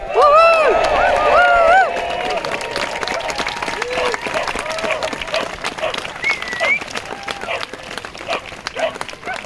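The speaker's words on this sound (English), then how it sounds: "I think that is worth giving yourselves a massive cheer for" An outdoor campaign crowd cheers and claps, a burst of loud whoops and voices at the start settling into scattered applause, with a dog barking now and then and people talking through it.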